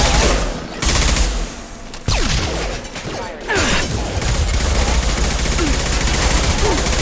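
Rapid automatic gunfire at hostile mechs in Mass Effect 2, loud and continuous with brief breaks and whooshing passes, over a dense combat bed with a faint voice.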